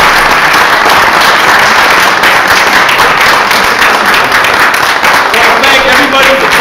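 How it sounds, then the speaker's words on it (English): Loud, sustained applause from an audience at a live show held in a temple hall, dense clapping filling the whole stretch with a few voices mixed in. "So let's give a round of applause for me."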